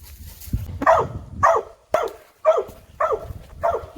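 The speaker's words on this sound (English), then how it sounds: "that's my dog barking" A dog barks repeatedly on a farm, a steady series of about six sharp, mid-pitched barks spaced roughly half a second apart, close and fairly loud with no talking.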